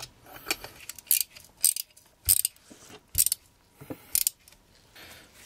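Screws are driven in to fasten the muffler on a Stihl 026 chainsaw during a rebuild, giving sharp metallic clicks and ratcheting ticks in irregular bursts, close and fairly loud, with no talk.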